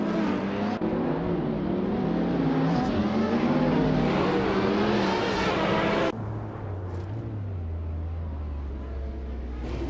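Racing video game engine roar from a 2019 Chevrolet Corvette C7 ZR1 among other cars, a loud sustained drone with rising and falling revs, then a sudden drop to a lower, steadier hum.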